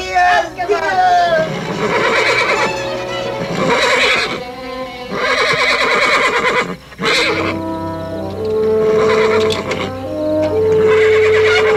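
A colt neighs loudly several times, shrill whinnies rising and falling, with voices talking in between and a brief pause midway.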